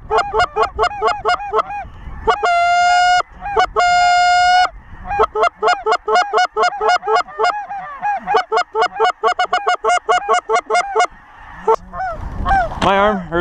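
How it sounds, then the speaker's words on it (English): A flock of geese honks loudly and repeatedly nearby, overlapping calls in rapid bursts, with a few longer drawn-out honks mixed in. "Geese, go away."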